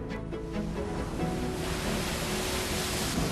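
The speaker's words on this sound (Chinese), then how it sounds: "台風過後就會遇到這種那個浪打到船上" Rough sea after a typhoon pounds against a ship in a continuous, loud rushing wash of surf and spray with wind noise, no voices heard.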